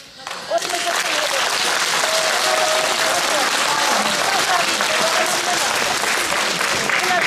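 Sustained, loud applause from a crowd at a public meeting in Kaniv, a dense continuous clatter of many hands clapping together for several seconds with no break.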